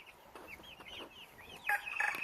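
Buff Brahma chicks cluck and peep softly in a coop, with a brief louder burst of chirping near the end.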